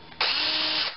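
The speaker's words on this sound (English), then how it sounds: "go ahead and put a tapping tool in your drill" A power drill fitted with a tapping tool threads a pre-drilled hole in metal for a test luminaire. It starts abruptly and whirs loud and steady for under a second before easing off.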